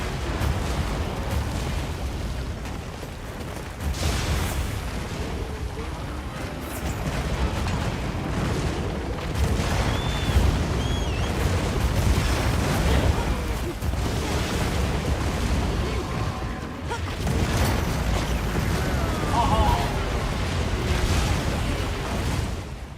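Compact anti-wyvern gun in a Monster Hunter fight against Gogmazios fires amid a long, dense rumble of booms and explosions, heavy low-end roar with scattered bursts, loud and continuous with no voices.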